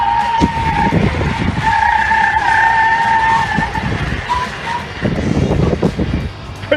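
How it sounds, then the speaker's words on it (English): A vehicle at a boat ramp braking hard, its tires skidding in a long loud squeal that holds for several seconds over engine and road rumble, then rough scuffing noise. "Brake slam."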